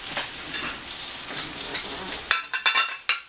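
A turkey chop frying in a pan, a dense close sizzle filling the first two seconds, then giving way to a few sharp scraping and clattering bursts of utensil against pan.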